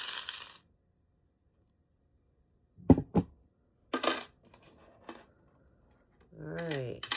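Small metal charms clink and rattle in a few short, sharp bursts separated by silence, followed by a person beginning to talk softly.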